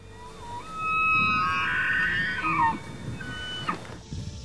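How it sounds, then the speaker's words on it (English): A bull elk bugles in the wild, a long rising whistle-like scream that breaks into grunting notes and carries over faint outdoor background noise. "heard the sound of a bull bugling"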